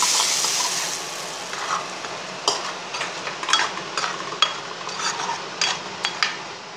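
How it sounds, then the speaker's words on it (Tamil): Mustard seeds and curry leaves spluttering in hot oil for a tomato pickle, with a steady sizzle and a string of sharp irregular pops and crackles, close and moderately loud, no talk. "கடுகு நல்லா பொரியட்டும். இப்போ வந்து கறி லூஸ் போடுறேன். தெரிக்கும் கறி."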